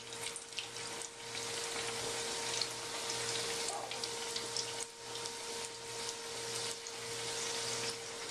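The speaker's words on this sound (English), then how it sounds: "These fry for just a couple minutes on each side because the meat's all cooked" Empanadas fry in hot oil in a Dutch oven with a steady, crackling sizzle and a faint continuous hum underneath.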